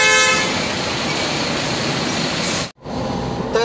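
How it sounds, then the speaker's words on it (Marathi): Dense road traffic on a highway between Pune and Indore, a steady loud rumble of passing vehicles with horns tooting close by, briefly interrupted by a short dropout. "त्यामुळे जरा ट्रॅफिक आहे रोडवर आता."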